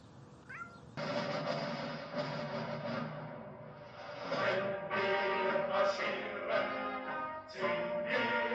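A cat meows repeatedly, loud and close, in long drawn-out wavering cries with brief dips between them.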